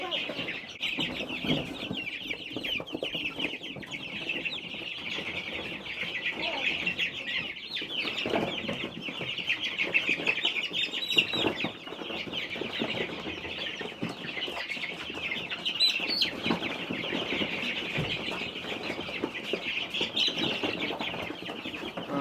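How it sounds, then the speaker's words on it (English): Many chickens and turkeys cluck and chatter together in a dense, continuous din, with occasional wing flaps and a faint voice underneath. "Time to bring some chickens and turkeys outside."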